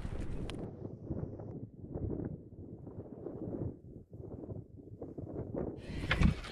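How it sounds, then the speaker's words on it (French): Strong wind buffets a mountain bivouac camp in the Vercors, a steady, close rushing roar with gusts swelling and easing throughout, no voices present. "Je déteste le vent."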